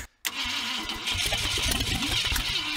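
An AMC Javelin's engine, with a rusty exhaust manifold, cranks briefly after a moment of silence, then catches and runs in a loud, rough, uneven chug close by.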